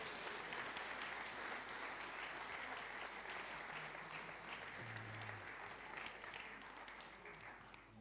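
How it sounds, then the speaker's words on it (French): A church congregation applauding during a Sunday service, a broad, steady sheet of clapping from a large room that holds evenly for several seconds before easing slightly at the end. "On peut les applaudir, merci."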